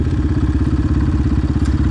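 Dakar rally motorcycle idling at the start of a special stage, a loud close-up single-cylinder thumping pulse with mechanical clatter, steady and rhythmic with no voices.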